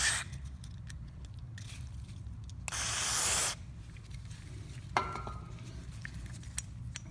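Carburetor cleaner sprayed into the throat of a Poulan lawnmower carburetor: one steady, loud hiss of about a second over a quiet background, ending abruptly, with a faint click afterward.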